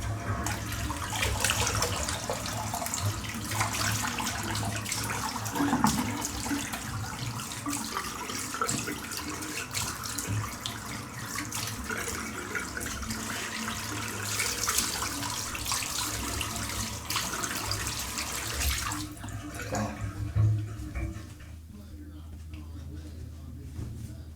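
A tap runs steadily for a long stretch as shaving cream and a razor are rinsed under it, a continuous broadband splash that drops away near the end to a quieter hum.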